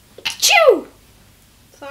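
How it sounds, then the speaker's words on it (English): A single loud sneeze bursts out in a podcast commentary on the 1975 Stockholm Eurovision contest, sharp and close, followed by silence and then the start of speech. "Achoo!"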